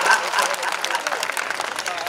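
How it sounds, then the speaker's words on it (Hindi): Audience clapping at a Hindi poetry recital, a dense patter of many hands filling the stretch at fairly loud level, mixed with crowd noise. "ताली बजा दो साहब यहाँ बजती है।"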